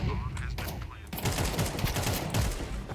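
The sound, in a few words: gunfire in the video game Counter-Strike 2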